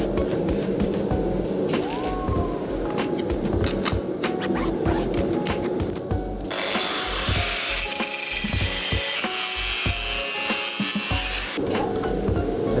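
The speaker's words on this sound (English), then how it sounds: "put it in the vise and cut it out with an angle grinder" Angle grinder cutting an 80CRV2 steel knife blank held in a vise: a continuous loud grinding whine, with a harsher, brighter screeching stretch midway as the disc bites into the steel.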